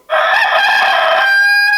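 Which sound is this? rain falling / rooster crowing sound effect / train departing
rooster crowing sound effect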